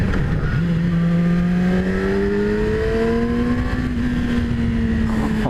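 A 2017 Yamaha R6 motorcycle drops a gear and its engine climbs to higher revs, a loud close whine rising steadily in pitch after a brief dip at the shift.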